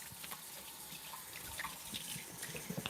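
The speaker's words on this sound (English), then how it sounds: "Let the water get warm." A kitchen tap runs water steadily into a sink, making a soft, continuous splashing hiss with small spatters, quiet and close, with no voices.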